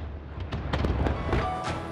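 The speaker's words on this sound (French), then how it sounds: "Dubaï est resté fidèle à la démesure de son nouvel an avec 36 feux d'artifice qui ont embrasé la ville sur 29 sites différents" New Year fireworks burst over Dubai, part of 36 displays lighting the city across 29 sites, heard as a dense run of booming blasts and sharp crackles layered over a continuous rumble.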